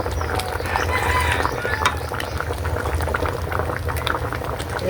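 Vegetables boiling in a kare-kare pot with beef skin, a steady close bubbling and simmering that stays fairly loud throughout, with no talking over it.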